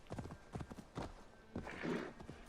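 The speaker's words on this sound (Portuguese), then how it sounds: "Vamos, bichinho. Vamos, cavalinho." Horse hooves clip-clop at a walking pace in the video game Assassin's Creed Valhalla, a soft, fairly quiet irregular run of thuds with a brief whinny-like sound partway through.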